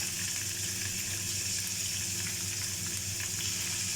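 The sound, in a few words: chicken frying in hot oil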